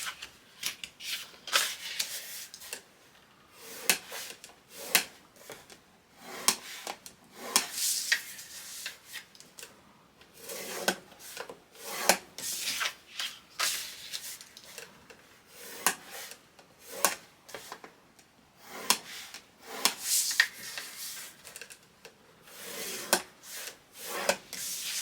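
Cardstock for a baby album is scored with a tool in a long run of short, repeated scraping strokes, close and fairly quiet, with brief pauses between passes.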